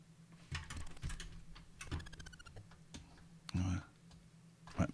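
Typing on a computer keyboard during a retro computing session, with scattered key clicks and short rapid bursts of taps, then a louder thump, with a voice talking in between.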